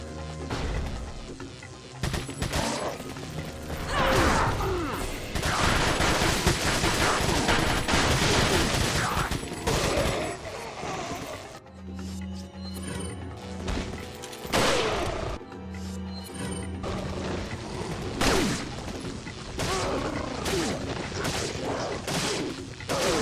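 Dense bursts of gunfire and a hand grenade blast in Resident Evil 4, loud rapid shots and crashing impacts rolling through most of the stretch, broken by a brief quieter gap before firing resumes.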